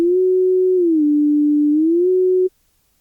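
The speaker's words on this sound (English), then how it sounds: "Which is why this square wave is coming out sounding like a sine wave." A Surge XT synthesizer square wave comes out as a smooth, pure sine-like tone. It holds a steady low-mid pitch that dips slightly and rises again, sounding alone for about two and a half seconds before cutting off abruptly.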